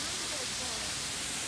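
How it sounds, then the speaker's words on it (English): A waterfall at Zoo Atlanta gives a steady, loud broadband rush of falling water, close and continuous throughout the short moment. "That's a waterfall. It's a waterfall."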